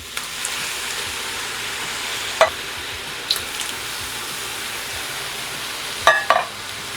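Canned fire-roasted tomatoes go into a pot of seasoned beef chuck chili, with a loud, steady sizzle and stirring throughout and a few sharp clinks of utensil against pot.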